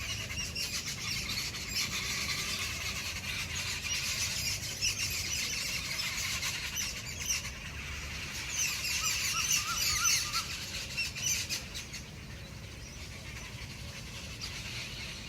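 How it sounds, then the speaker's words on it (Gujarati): Birds chirp and squeal continuously outdoors in a village where pigeons are being fed grain, a dense, steady chorus of high calls with no talking. "પક્ષીઓનો કલરવ કેટલો મસ્ત છે."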